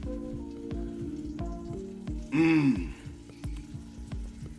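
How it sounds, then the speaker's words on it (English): Kielbasa sausage sizzles in a pan with a steady, soft crackle under a low rhythmic hum; a person briefly murmurs partway through. "Yeah, it's sizzling, dude."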